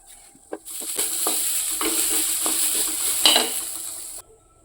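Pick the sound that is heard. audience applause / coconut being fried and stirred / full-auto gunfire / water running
coconut being fried and stirred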